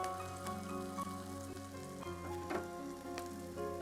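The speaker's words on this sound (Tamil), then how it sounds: "மீடியமான ப்ரௌனில் இஞ்சி பூண்டு பேஸ்ட் போட்டிருக்கோம்" Ginger garlic paste fries with browned onions in a pan for Mysore chicken curry, giving a soft, steady sizzle with small crackling pops, quiet and close, with no talking.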